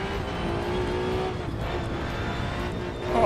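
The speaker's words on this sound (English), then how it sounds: "Oh, this is a monster of a car." A race car engine in the Assetto Corsa EVO sim drones steadily at high revs, a sustained near roar with a slight swell at the end, with no talking over it.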